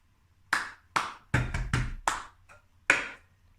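Cup song routine played on cups: a sequence of separate sharp claps and cup taps and smacks, close and fairly loud, spaced unevenly with short silences between.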